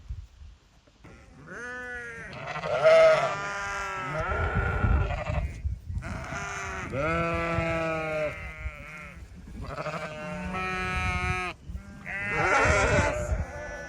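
Sheep bleat repeatedly inside a farm shed, several loud, wavering calls close by, overlapping one another in bursts with short pauses between.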